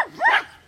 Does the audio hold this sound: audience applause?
no